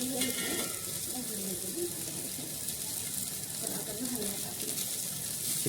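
Chicken 65 frying in oil in a German-steel pot, a steady hiss of sizzling that runs unbroken at moderate level, with faint background clatter.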